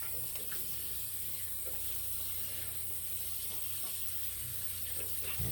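Tap water runs steadily from a faucet into a sink during handwashing after a shave, a continuous, fairly close hiss and splash with small shifting splashes throughout and no talking.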